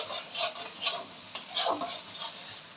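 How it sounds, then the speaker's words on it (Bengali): Grass carp fish curry being stirred with salt in a pan: close, steady scraping and shuffling strokes of a utensil through the thick mixture, repeating rhythmically without pause. "আবার একটু নাড়াচাড়া করে নিচ্ছি আমি।"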